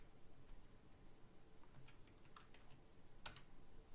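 A few quiet key clicks come from a computer keyboard as a password is entered during a Kali Linux setup in VirtualBox, with sparse taps over a faint hum.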